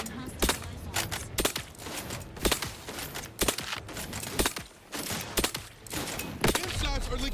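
Rapid gunfire from The Outer Worlds at the Vox relay tower: irregular bursts and single sharp shots, loud and close, repeating throughout with brief gaps between volleys.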